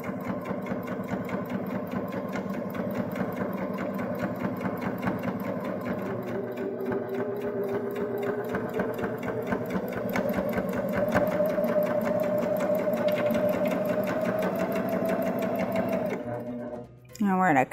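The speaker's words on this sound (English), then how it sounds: "And I do sew a little slower over those areas." A Baby Lock Jazz sewing machine runs steadily with a double fold bias binder attachment, its motor humming close and continuously and rising in pitch as it speeds up, before stopping abruptly at the end; a voice talks over it.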